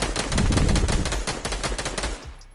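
Rapid bursts of automatic gunfire in a Fortnite match, loud and close, a dense run of shots lasting a couple of seconds before trailing off, with no talking.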